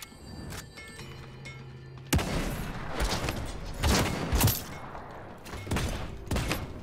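In Realm Royale, a rapid burst of gunfire breaks out after a quieter opening. Shots come in loud, irregular clusters with thumping impacts, close and sharp, alone without talk.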